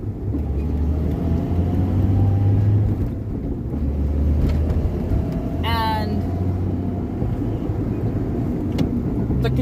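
A Fox-body car with a T5 manual swap drives along, its steady engine drone and road rumble filling the cabin as a person talks over it, with a short whistling chirp partway through.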